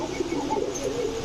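Soft, low cooing from a few pairs of racing and tumbler pigeons kept for sale, gentle and repeated close by, with no voices.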